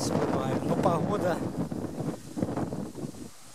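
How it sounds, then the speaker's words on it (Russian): Gusty, cold north wind buffets the microphone in heavy rumbling bursts over a potato garden, with a person talking over it, the roar easing slightly toward the end. "Ужас, какая, ветер какой."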